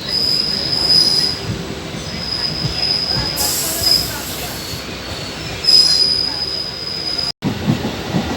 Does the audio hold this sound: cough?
no